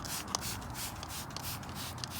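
Polymer plastic protectant sprayed onto an RC car body, a soft continuous hiss with a few short pump bursts, close and alone.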